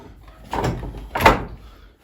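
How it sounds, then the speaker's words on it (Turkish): A door is pushed shut in a room, two soft thuds a short gap apart, the second firmer as it closes, close to the microphone with quiet surroundings. "Ben önce kapıyı kapattım."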